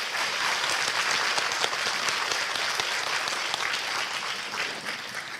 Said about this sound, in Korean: 기쁨 수레님과 서로미드님께 다시 한번 큰 박수 보내주세요.